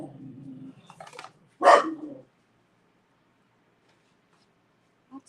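A dog indoors lets out a low whine, then a single loud, sharp bark close by, followed by near silence and a brief faint sound at the end.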